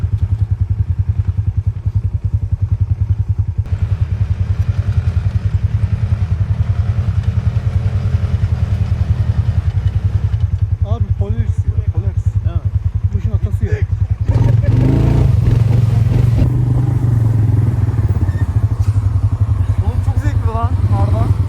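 An ATV engine on a tour idles and revs with a steady low rumble, rising in a louder surge partway through, while people talk and shout over it.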